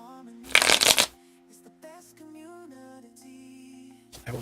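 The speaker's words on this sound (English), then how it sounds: "I'm gonna shuffle my deck." A deck of Magic: The Gathering cards riffled once in a quick, loud burst up close, followed by a soft tone and faint shuffling, then a brief second flutter at the end.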